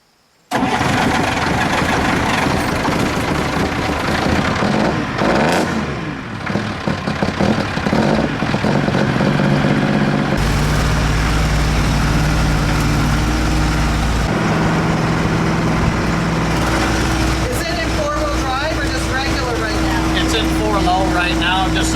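Jeep Forward Control diesel engine cranking and catching after the glow plugs warm, then settling into a loud, close, steady idle with a rough mid-range drone.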